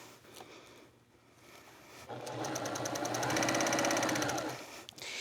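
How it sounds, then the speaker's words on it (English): A sewing machine stitching quilt fabric runs in a fast, steady whir with rhythmic needle clatter for about three seconds after a quieter start, then stops, with a faint click at the end. "the really nice thing about this machine, it sews so beautifully and fast"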